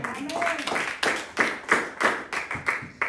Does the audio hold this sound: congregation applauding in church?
yes